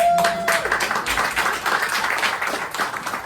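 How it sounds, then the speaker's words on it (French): An audience at a conference claps, a rapid, loud burst of many hands with distinct individual claps audible up close throughout. "La marraine en applaudit."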